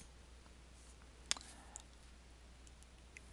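A computer mouse clicks once, sharp and close, followed by a couple of softer, quieter clicks over a faint steady room hum.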